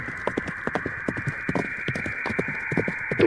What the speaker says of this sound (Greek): Το ποδοβολητό και η ταχύτητα του δηλητηριώδους σκορπιού οδήγησε τον Ορίωνα στη θάλασσα